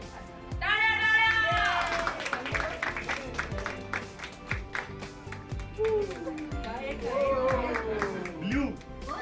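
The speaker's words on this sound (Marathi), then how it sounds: "टाळ्या" Guests at a baby shower cake cutting clap and cheer, a light spread of applause running beneath excited, overlapping voices and a few high exclamations throughout.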